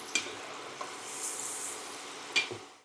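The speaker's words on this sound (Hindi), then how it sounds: "कितना मस्त फ्राई हो रहा है।" French fries sizzle in hot oil over a high flame, with a steady close hiss and a few sharp scrapes and clinks as a spoon stirs them in the pan.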